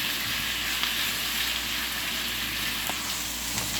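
Steak and browning meat sizzle steadily in a hot frying pan for a Filipino bistek dish, a dense, continuous hiss close by with no talking.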